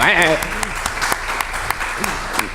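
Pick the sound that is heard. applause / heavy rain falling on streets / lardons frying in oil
applause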